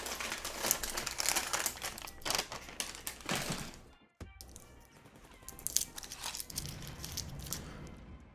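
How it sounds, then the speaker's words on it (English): A plastic bag is crumpled and crinkled up close, producing dense, crackly rustling that continues for several seconds with one brief pause in the middle and no voices. "For your listening pleasure, a plastic bag."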